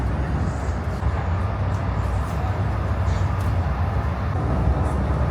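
City of New Orleans passenger train rolling through the Chicago suburbs, a steady close rumble of wheels and carriage noise filling the cabin without pause.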